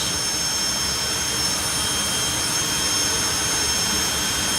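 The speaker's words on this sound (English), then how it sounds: "as we get ready now for the flame show and the afterburner pops." Jet dragster at the FIA European Finals drag racing event, its engine roaring in a loud, steady, continuous blast without any break.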